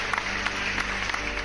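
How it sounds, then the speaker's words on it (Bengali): Applause from a crowd rolls on as a steady, even wash of clapping over a low music bed, with a few sharper claps standing out. "পেয়েছ অনেক হাততালি"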